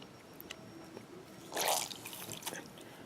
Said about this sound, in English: let me put a new thing of water in here